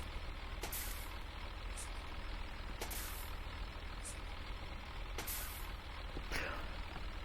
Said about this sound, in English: I love the parking brake noise.